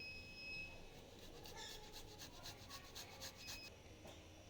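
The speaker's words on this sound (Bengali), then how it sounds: "আমি দুটো আলু নিয়েছি, আলু দুটো আমি গ্রেট করে নেব।" Potatoes are rubbed against a grater in a quick series of soft, rasping scrapes, close but faint, with a rhythmic back-and-forth pattern.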